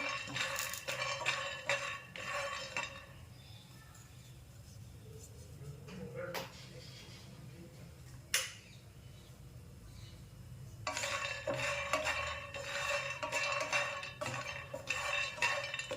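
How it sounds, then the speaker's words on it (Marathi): Peanuts dry-roasting in a hot pan rattle and scrape under a stirring spoon in two close bursts, one at the start and one at the end. A quieter stretch between them is broken by a couple of sharp knocks. "दोन ते तीन मिनिट आपल्याला शेंगदाणे चांगले खरपूस असे भाजून घ्यायचे आहे"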